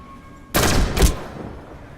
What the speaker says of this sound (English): Try shooting some targets while aiming down sights.